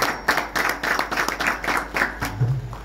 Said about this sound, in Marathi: बुवांसाठी एकदा जोरात सगळ्यांनी टाळा.